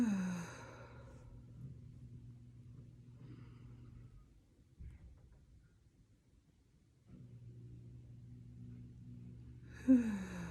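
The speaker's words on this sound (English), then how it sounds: "Let's do 3 deep breaths" Three slow, deep breaths taken in calmly, each a soft airy inhale and long sighing exhale, fairly close, with a faint low rumble underneath and no talking.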